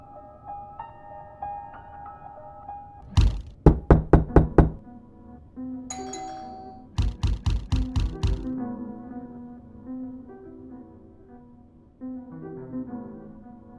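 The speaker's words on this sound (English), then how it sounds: "Why are you knocking like that?" Repeated knocking on a door comes in two bursts of about six sharp, loud raps each, separated by a pause, with quieter room sounds in between and no talking.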